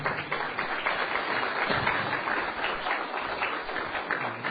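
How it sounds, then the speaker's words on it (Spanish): An audience gives steady, even applause to welcome a lecturer at a talk on the history of Christianity. The clapping carries on continuously for several seconds and sounds somewhat muffled. "Gracias por el aplauso."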